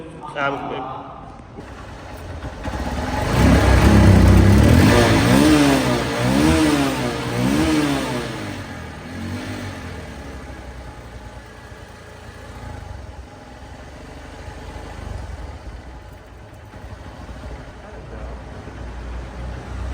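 A Honda CB Trigger motorcycle engine revs up in rising and falling bursts, then settles into a steady idle; someone talks over the engine.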